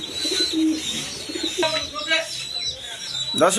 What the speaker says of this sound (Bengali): এখানে এক পেয়ার ঘুঘু কবুতর আছে